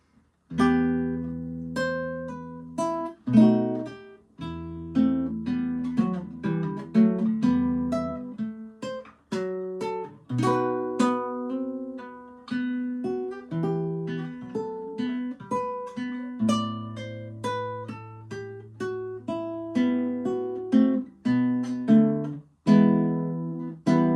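Solo classical guitar plays a flowing passage from Tárrega's Lágrima, plucked notes over low bass strings, steady and close, with chords ringing together at times.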